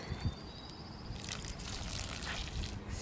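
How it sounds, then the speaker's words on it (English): Water trickles and splashes softly as freshly planted garden plants are watered on a dreary day. The sound is quiet, steady and close, with no talking. "so maybe I'll just water them."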